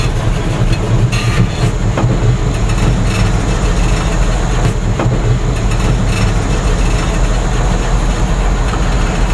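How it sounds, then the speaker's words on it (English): A car slowly drives up loading ramps into a box truck, with a loud, steady engine drone and rumble running unbroken from start to finish. "now it's time to get the vehicle onto the truck."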